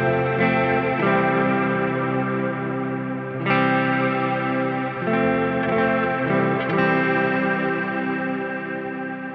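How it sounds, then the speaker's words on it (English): Guitar chords played through a Meris Mercury X reverb pedal on its prism modulation setting, a lush, continuous wash of sustained tones with shifting shimmer and a few new strums, loud and close with no talking. "dial here for this prism setting, which is the modulation phase"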